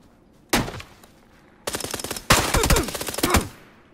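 Gunfire in PUBG: a single loud shot, then a short pause, then rapid automatic bursts in quick succession, sharp and fairly close, with no talking.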